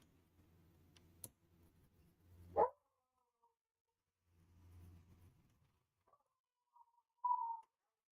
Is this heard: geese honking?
no